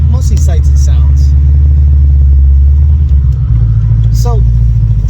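Corvette ZR1 with about 600 rear-wheel horsepower in a 3,200-pound car, heard from inside while driving: a loud, steady low engine rumble drones throughout, with a few brief higher chirps over it.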